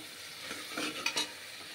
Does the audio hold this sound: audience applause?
no